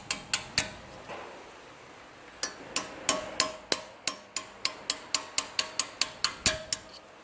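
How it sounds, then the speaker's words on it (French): A hammer drives a pin punch against the brake pad retaining pins on the front brake of an Audi RS3 8V. The sharp metallic strikes come close, a few spaced hits first, then a long run of quick, steady blows with no talking. "Prenez un chasse-goupille avec un marteau."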